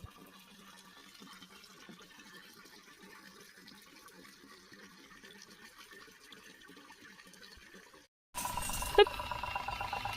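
Water running from a hose into a barrel for mixing areca nut tree spray, a steady low gushing fill that cuts off, then a louder splashing burst near the end.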